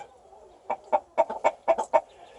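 A mother hen guarding her chicks gives a string of short, sharp clucks, about eight in quick uneven bursts, close and clear over a quiet background.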